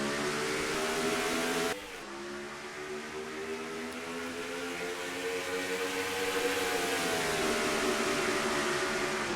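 Race cars restarting at Darlington in a NASCAR-style racing video game: a loud, steady wall of engine drone with layered harmonic whine, a sudden shift near two seconds, then pitches climbing as the field accelerates, no talk.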